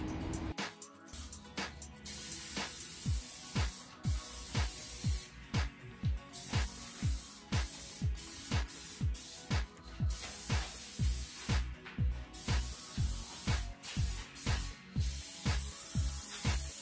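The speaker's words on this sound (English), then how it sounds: "Now we're going to use some degreaser to clean down the part before we paint." Aerosol degreaser sprayed onto a 2003 Jeep Liberty grill in short repeated bursts, each hiss starting and stopping in a steady rhythm, close and fairly loud with no talking.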